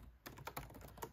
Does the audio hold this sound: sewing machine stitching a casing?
no